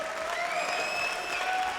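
Crowd applauding the men's singles winner at the English Open 2025 final, a steady wash of clapping from a large audience that holds at an even level for the whole short stretch.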